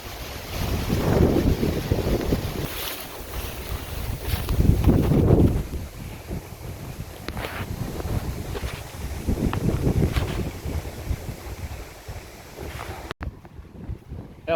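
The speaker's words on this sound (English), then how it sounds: "I hope you can hear me, it's getting windy." Strong gusting wind buffets the microphone outdoors on open land as a storm moves in, a loud continuous low rumble with surges, steady roaring throughout and a brief drop near the end.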